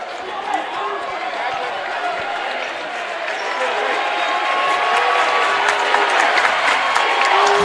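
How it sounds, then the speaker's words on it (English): Loud, sustained crowd noise and cheering fill a gym during a boys high school basketball game, swelling in the second half, with sneaker squeaks and scattered shouts throughout. "Crowd getting into it again."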